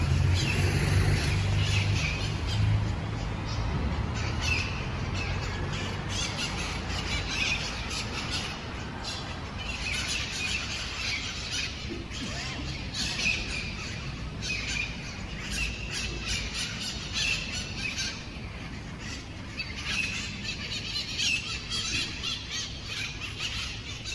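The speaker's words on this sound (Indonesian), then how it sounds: "dengerin suara burungnya, masih ada banyak burung di sini" Many birds squawk and squeal in a small square near a Barcelona city library, a constant shrill chorus over low traffic rumble and city background, loud and unbroken throughout.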